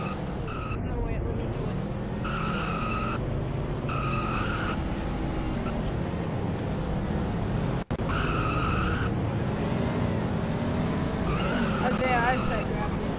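Race car tires skid and squeal in a NASCAR racing game, with engine roar running steadily under the screech and repeated bursts of squealing across the stretch; a voice talks over part of it.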